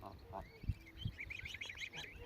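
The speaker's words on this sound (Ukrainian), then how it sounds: "Як бачите, вже гусенята трішки підросли." Young goslings peep in high, thin, repeated chirps while larger fowl honk and quack in short low bursts nearby, all fairly faint and close together.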